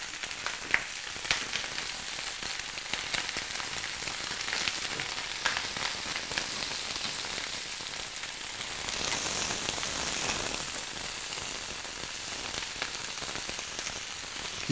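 Cabbage rolls fry in a pan with tomato paste, giving a soft, continuous sizzle with light crackle, fairly quiet and close, with no talk.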